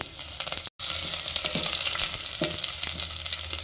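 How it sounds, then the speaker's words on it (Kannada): Onion fries in hot oil with mustard seeds and curry leaves, producing a loud, dense crackling sizzle with occasional stirring scrapes, close and continuous apart from a brief cut early on, no speech. "ಚೆನ್ನಾಗಿ ಮಿಕ್ಸ್ ಮಾಡ್ಕೊಳ್ಳಿ ಈರುಳ್ಳಿ ಚೆನ್ನಾಗಿ ಫ್ರೈ ಆಗಲಿ"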